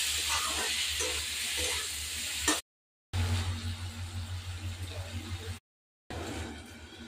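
Taro greens and small potatoes sizzle and hiss in a cooking pan for an Assamese fish and taro-greens dish, with soft stirring scrapes; the steady frying is broken by two brief silent gaps.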